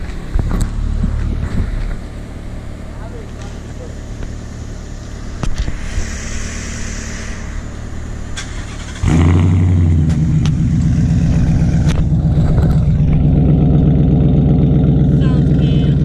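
A bone-stock Ford Mustang 5.0 engine roars to life partway through and keeps up a loud, deep, steady revving rumble up close, after a quieter stretch of background noise.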